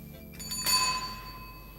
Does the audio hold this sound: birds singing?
no